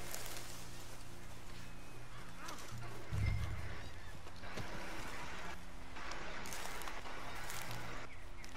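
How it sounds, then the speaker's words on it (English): A flock of geese honking in the Red Dead Online video game, repeated overlapping honks over a steady outdoor background, with a brief low thump partway through and no talk. "Flock of birds."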